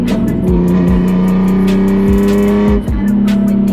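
A BMW E46 M3 with a newly installed valved exhaust revving loudly nearby, a deep steady drone with repeated throttle blips rising and falling.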